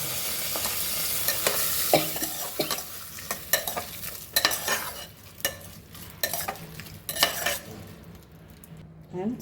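A spoon stirs fermented curd rice in a metal pot, with repeated scraping and clinking strokes and a soft wet sizzle-like hiss, close up and alone.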